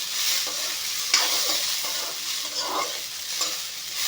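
Beans fry in a hot pan with oil while being stirred, a steady bright sizzle punctuated by scraping strokes of the spoon, close and continuous with no talking.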